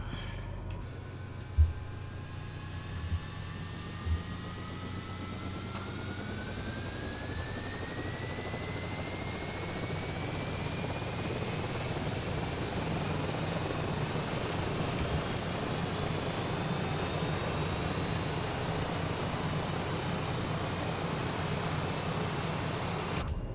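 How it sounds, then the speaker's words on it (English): Aircraft engine and propellers spool up in Microsoft Flight Simulator 2020: a few clicks early on, then a steady drone with rising whining tones climbing over the first dozen seconds before leveling into a constant hum. "Let's wait for the propellers to turn up."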